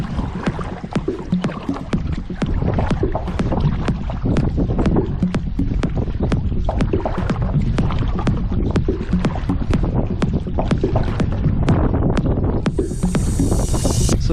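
A kayak is paddled along the windy Lake Superior shoreline near Rossport, Ontario. Steady rhythmic splashes of the paddle strokes mix with constant wind buffeting the microphone.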